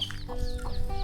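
Chickens cluck nearby on a farm, a few short overlapping calls in quick succession over steady background bird noise.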